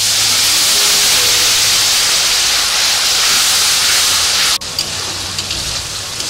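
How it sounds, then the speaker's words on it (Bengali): A little water hits spice paste frying in a hot pan for Bengali tengra fish curry, giving a loud, steady, close sizzling hiss that eases slightly near the end. "এবার সামান্য পরিমাণে জল দেব"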